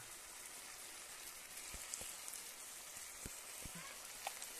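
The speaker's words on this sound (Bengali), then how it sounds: "মাংস সবে কষা হচ্ছে" Chicken curry meat sautéing in a pan, a soft continuous crackle and spatter with a few sharper pops scattered through, fairly quiet and close.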